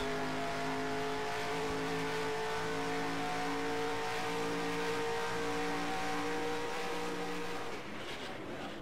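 Several NASCAR race car engines in the NASCAR Racing 2003 video game, with a steady loud roar and sustained high-pitched drones that hold constant and close for the whole stretch before easing slightly at the end, no talk.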